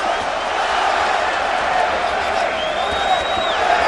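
A boxing arena crowd cheering at a fight between Miguel Cotto and Rocky Martinez, a sustained roar with scattered whoops and a whistle, under a commentator talking.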